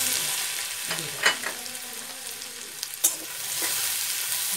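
Grated coconut sizzles in hot oil in a pan of moong dal, a steady close hiss with a few sharper scrapes from a stirring spoon.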